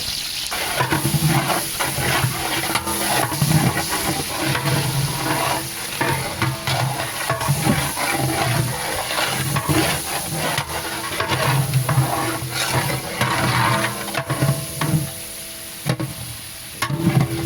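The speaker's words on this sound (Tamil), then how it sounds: "வெங்காயத்தை போட்டுக்கலாம்." Sliced large onions sizzle and crackle in a big pot of hot oil for a 10 kg village-style chicken biriyani. The frying hiss is loud and continuous, and stirring scrapes come through now and then.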